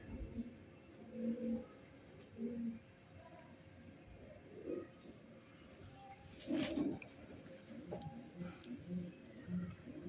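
Pet pigeons coo in soft, low, repeated phrases at intervals, faint and somewhat distant against a quiet background.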